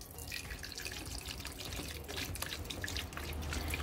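Liquid hand sanitizer gel pours steadily in a continuous wet trickle and splash, fairly close, with no talk.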